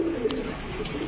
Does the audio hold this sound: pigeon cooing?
yes